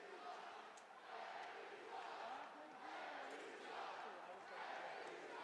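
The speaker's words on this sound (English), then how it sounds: "crowd displeased with the referee" A hockey arena crowd in an AHL playoff game, Springfield Thunderbirds against Providence Bruins, voicing sustained displeasure at the referee in a broad, rolling roar that swells and eases, heard at a distance and fairly faint.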